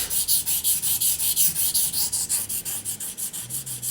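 A steel hunting knife edge is drawn repeatedly across a sharpening stone in a quick, even rhythm of about five strokes per second, each a close, gritty rasping rub.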